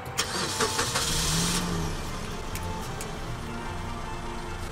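A car engine cranking and catching in a video game, a brief burst of starter noise followed by a steady mid-pitched idle rumble that carries on alone.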